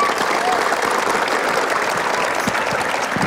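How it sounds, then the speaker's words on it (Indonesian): Audience applause during an Indonesian TV variety comedy show, a dense steady wash of clapping sustained at even loudness throughout, with no talk over it. "Dan sekarang tepuk tangan akan membangunkan Raffi."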